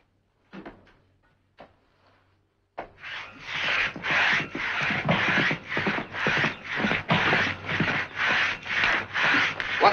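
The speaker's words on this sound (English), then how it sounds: "Stop the sawing." A few faint knocks, then a hand saw cuts through a thick tree trunk in steady, rhythmic back-and-forth strokes, about a dozen, close and clear.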